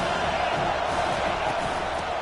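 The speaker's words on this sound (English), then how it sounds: "this crowd is tearing the lid off this place" Stadium crowd roaring in a college football video game with Texas A&M, a dense, steady wall of cheering noise at full volume throughout, with commentary speech mixed in.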